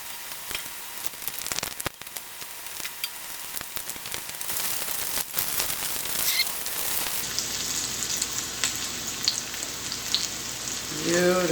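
Vegan oxtail pieces frying in a pan until very hard, producing a loud, dense crackling sizzle throughout, with sharp spits and pops standing out early on.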